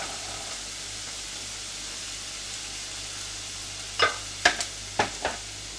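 Carrots frying in a pan for a vegetarian bulgur patty recipe, heard as a steady soft hiss that turns into a few sharp scraping stirs near the end. No one speaks.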